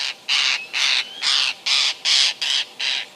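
A lilac-breasted roller gives harsh alarm calls, a series of about eight loud, raspy squawks in a steady rhythm, each lasting a fraction of a second, close by with no other sound between.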